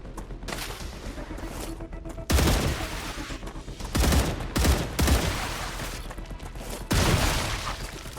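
Video game gunfire crackles in dense, sustained volleys, with several louder bursts striking close and hard at irregular intervals over a constant rattling bed.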